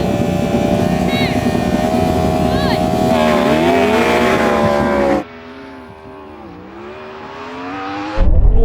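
A Yamaha R1M superbike drag races a Porsche Taycan Turbo GT and a Ferrari SF90 on a dry strip. Loud engine roar climbs in pitch, fades and thins midway, then surges back hard at the very end.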